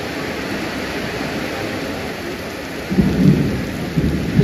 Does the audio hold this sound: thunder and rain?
yes